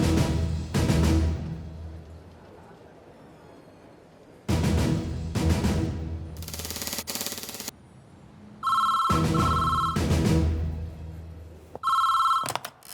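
A telephone rings through an electronic tone while an emergency call is placed, in a dramatic scene with loud booming impacts and bursts. Short, repeated ringing pulses sit between heavy, sudden blasts.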